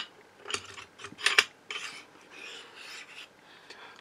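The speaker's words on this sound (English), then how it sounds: "So next we'll put in the barrel, and we'll just undo these screws here." Small metal clicks and scrapes from tools working the screws on a Leshiy 2 air rifle during a barrel fitting, a quiet close scatter of brief ticks with a denser clatter in the middle.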